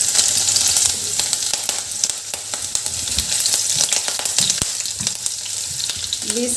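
Garlic and green chillies sizzling in hot oil, a steady bright crackle and hiss for the whole stretch with occasional stirring clinks, close and alone without talk.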